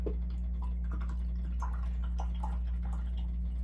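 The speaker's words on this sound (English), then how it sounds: "Rinse my brush again." A paintbrush is swished and rinsed in water, producing faint drips, light ticking taps and small splashes over a steady low background hum.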